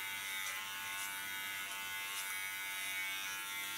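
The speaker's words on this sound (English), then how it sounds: "Guiding my hairs into the clippers." Electric hair clippers buzzing steadily at close range while cutting hair short, a thin continuous hum with faint brushing passes of the blade through the hair.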